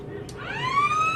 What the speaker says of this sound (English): And the halftime siren goes.